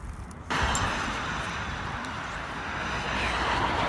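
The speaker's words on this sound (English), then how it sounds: "This road behind me is so noisy and the cars are zipping through." Steady road noise from cars passing on a busy road near an abandoned 1890s house, a broad continuous rushing hiss that swells in abruptly and stays fairly loud, with no voices.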